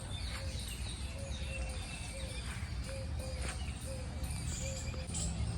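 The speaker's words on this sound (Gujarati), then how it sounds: "તમે સાંભળી શકો છો પક્ષીઓના કલરવ" Faint birds chirp in the distance in a residential colony after a night of heavy rain, short repeated calls over a soft steady outdoor background hiss.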